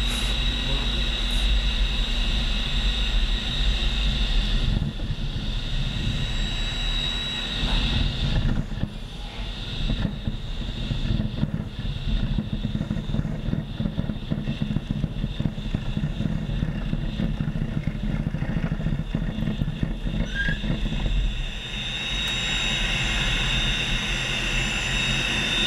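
A jet trainer aircraft in a stall and spin roars continuously with a rough, rumbling engine drone and a steady high whine, loud and close throughout.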